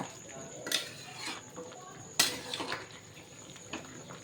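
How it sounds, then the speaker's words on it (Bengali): Spices being stirred into boiled vegetables for Bengali shukto in a pot, with a few sharp clinks of a utensil against the pot and softer scraping stirs, close and moderately loud. "এবারে আমি নেড়ে চেড়ে মশলাগুলো এই শুক্তোর মধ্যে অ্যাড করব"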